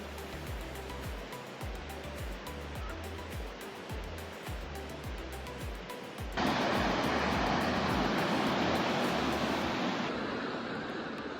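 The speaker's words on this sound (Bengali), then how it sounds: "এটা সচি সব থেকে পরিচিত ক্যানিয়নগুলোর একটা হোয়াইট ক্যানিয়ন আর মাছ দিয়ে জলের স্রোত বয়ে চলেছে" A water stream rushes through White Canyon near Sochi, Russia, as a constant broadband hiss of flowing water. It swells noticeably louder partway through, then eases slightly near the end, with no voices.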